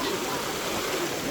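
Water flowing steadily at a sunny bathing spot where crowds come to swim, a continuous rushing wash heard up close with no clear breaks.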